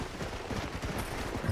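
Gunshots from the western video game Red Dead Redemption, a quick run of soft, fairly distant pops in steady succession with no voices over them.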